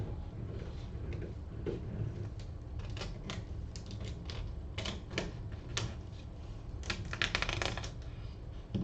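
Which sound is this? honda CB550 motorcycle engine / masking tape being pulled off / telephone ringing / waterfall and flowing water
masking tape being pulled off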